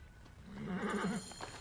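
Horse in Assassin's Creed Origins gives a faint whinny, with a muffled rumble of game ambience around it.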